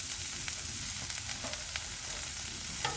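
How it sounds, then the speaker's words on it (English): Steady, close sizzling of butter on a hot Blackstone griddle while cooking French toast, a continuous crackle with faint scattered pops throughout. "That butter will kind of sizzle down in there"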